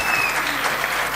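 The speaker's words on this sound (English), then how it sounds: "A huge round of applause for Mr. Mohan Thomas." An audience applauds an award winner at a wildlife photography awards ceremony, with dense, steady clapping from a large crowd that fills the short stretch without a break.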